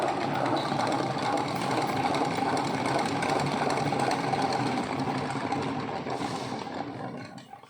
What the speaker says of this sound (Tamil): ஒரு டைம் சுற்றிட்டு மறுபடியும் அடையை எடுத்து திருப்பி போட்டு சுற்றணும். அப்போ தான் தேன் வரும்.